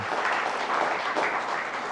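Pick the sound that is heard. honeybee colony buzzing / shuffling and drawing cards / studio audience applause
studio audience applause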